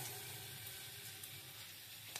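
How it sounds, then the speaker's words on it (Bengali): Fish popcorn deep-fries in hot oil, a soft, steady sizzling hiss close by with faint crackles, no voices. "তেল গরম হয়ে গেছে, এবার আস্তে আস্তে ফ্রাই করে নেব।"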